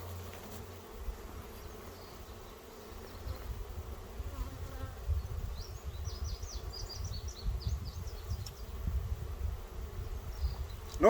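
Honey bees buzz steadily inside a swarm trap box, a dense low drone that swells louder partway through, with faint higher insect whines above it.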